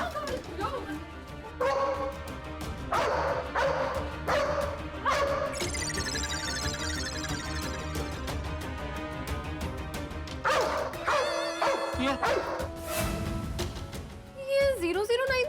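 Repeated dog barks mixed with voices and a busy background of music and sound effects, with several sharp yelps near the start and more later, moderately loud over the chatter.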